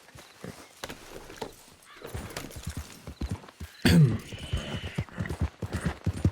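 Horse in Red Dead Redemption II gives a sharp, loud whinny partway through, with hooves clip-clopping steadily before and after at a moderate distance.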